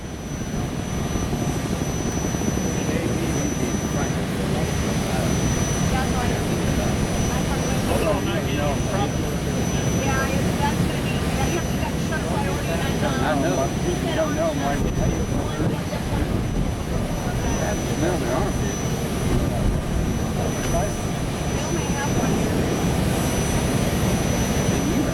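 A T-28 Trojan propeller airplane roars past at the 2015 Blue Angels Homecoming Airshow, a loud, sustained engine drone that swells and lingers while an announcer talks over the crowd.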